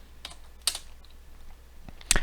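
Typing on a computer keyboard during Python coding, a few sparse, sharp key clicks and clacks in short clusters, close and fairly quiet, with no talking.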